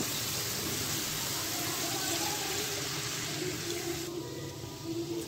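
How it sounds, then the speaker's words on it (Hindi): Water poured from a regular tea cup into roasted rice in a cooking pot while making matar pulao, a steady close splashing pour lasting a few seconds with no talking. "अब मैं इसमें पानी ऐड करूँगी।"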